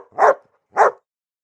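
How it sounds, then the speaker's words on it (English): A dog barks twice, about half a second apart, with clear, moderately loud woofs and silence in between. "it is a dog."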